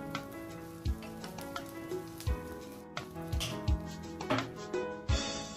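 Chopped small onions fry for matar paneer masala, a steady loud sizzle in hot oil broken by several sharp knocks and scrapes of stirring, with no voices.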